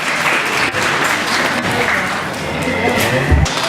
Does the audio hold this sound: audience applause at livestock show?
yes